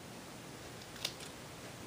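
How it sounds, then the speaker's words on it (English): Scissors make a single quick snip through paper card while notching a pendant, a brief crisp cut near the middle against a quiet, faintly hissing background. "And I just grabbed some scissors."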